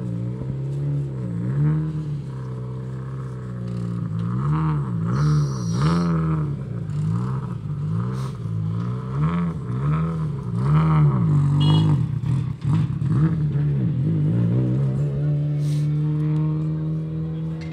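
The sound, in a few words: rally car leaving the service pits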